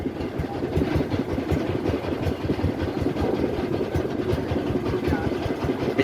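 The large ship MV Vascola passes close to a ferry ghat on the Rupsa river at Khulna, its engine giving a steady, rhythmic low throb that stays loud throughout.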